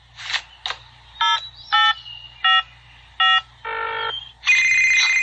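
A cartoon cell phone from Bob the Builder beeps through a rapid series of dialing tones, each short and distinct with brief gaps, then ends in a steady electronic ringing tone, loud and close with no talking.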